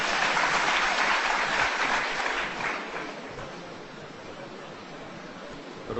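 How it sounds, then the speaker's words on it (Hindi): An audience at a gathering claps loudly at first, a dense, close wash of applause that thins and softens over the last few seconds. "पहले आने वालों के लिए आप जोरदार तालियां बजाइए।"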